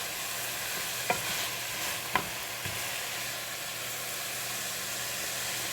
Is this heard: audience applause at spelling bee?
no